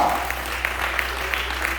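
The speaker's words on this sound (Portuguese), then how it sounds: "Dê aplauso ao Senhor, ele merece aplauso." A church congregation applauds in praise, a short burst of crowd clapping with a few sharper claps popping out above a steady low hum.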